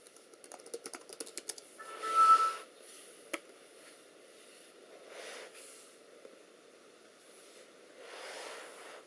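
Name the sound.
typing passcode on laptop keyboard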